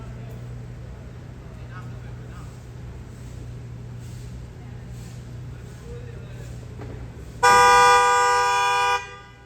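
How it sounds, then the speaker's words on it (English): On a city street with a double-parked van, a low traffic hum and faint noise run for several seconds before a car horn blasts one long, loud honk near the end. "This person's sitting there honking like crazy."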